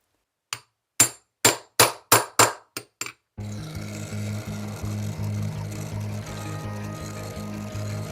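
Hammer knocking a wood blank onto a lathe spur drive: about nine sharp, loud blows in quick succession, tapering in strength, followed by a steady whirring hum as the lathe spins up and runs.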